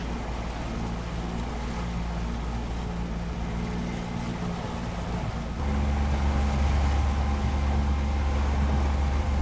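Motorboat engine droning steadily while cruising at sea between islands in an aquarium-like bay near Dikili, Turkey; a constant close, loud hum with water wash, rising in pitch and level partway through as the throttle changes.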